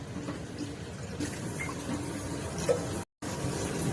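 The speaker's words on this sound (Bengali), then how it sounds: "পরিমাণ মতো এতে জল দিয়ে দেবো" Water pours steadily into a pressure cooker holding spiced meat pieces, a continuous splashing, trickling stream heard close up with a brief gap near the end.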